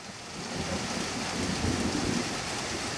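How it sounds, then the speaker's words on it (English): Heavy rain pours steadily in Australia with a low, rolling rumble of thunder swelling beneath it, dense and continuous. "You can hear a bit of thunder going on in the background."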